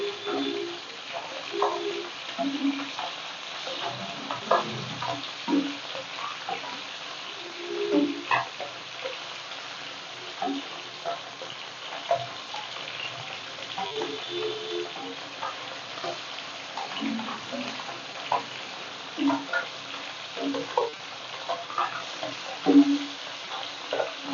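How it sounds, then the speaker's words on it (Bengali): Roe-filled puti fish fry in a pan and are turned over, giving a steady soft sizzle broken by frequent light clinks and scrapes of the turner, with a voice talking at times. "একটু উল্টে পাল্টে ভেজে নেবো ভালো করে।"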